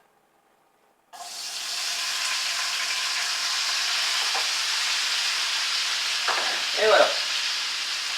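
Green beans hit hot fat in a frying pan after a moment of silence, bursting into a loud, steady crackling sizzle that carries on, with a short spoken word partway through.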